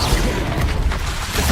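A Confringo fire spell explodes in the Hogwarts Legacy video game, a heavy, rumbling boom with a crackling, smashing tail that stays loud and dense throughout.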